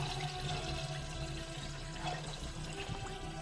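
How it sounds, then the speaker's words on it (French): Clean water rinsing a car heater radiator, heard as a steady, fairly faint rush and trickle of flowing water throughout, with no talking. "Donc là on rince avec de l'eau claire le radiateur"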